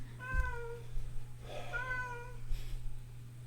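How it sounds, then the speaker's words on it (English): A cat shut outside a room meows and howls in two drawn-out, wavering cries, fairly close through the door, with a steady low electrical hum underneath. "we have a cat trapped outside our room who's very upset with us"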